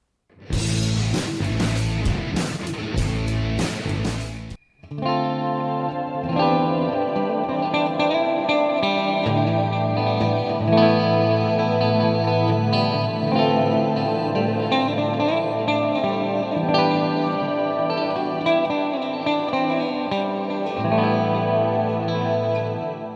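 A brief burst of loud, choppy noise gives way to a guitar through stacked Electro-Harmonix Canyon and Oceans 11 shimmer reverb pedals, layered sustained tones swelling into a dense, ringing wall of sound.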